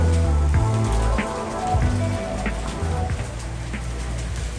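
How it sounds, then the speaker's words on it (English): Hail and rain fall together near a lake in Nepal, a dense, close patter of drops striking a surface that carries on steadily, with talk and background tones over it. "it is literally hailing right now."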